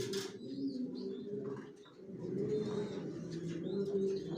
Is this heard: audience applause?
no